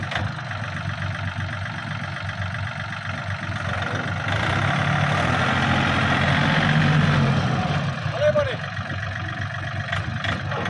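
A Yanmar 39 hp tractor's engine runs steadily nearby, a low continuous diesel rumble that swells slightly midway, with someone talking over it.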